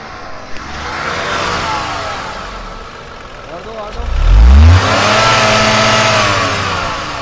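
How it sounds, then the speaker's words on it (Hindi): Tata Punch SUV with a naturally aspirated engine revving up hard, a strong rising roar near the middle that holds and settles into a steady higher drone, with someone talking over it. "रेस दे, रेस, सिर्फ रेस। और दे, और दे, और दे। ये और सुनना भाई, सुनना।"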